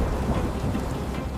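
Steady heavy rain pours on hard surfaces in a city underbelly at night in an AI-made historical movie, while a deep thunder rumble rolls beneath it, loud and continuous.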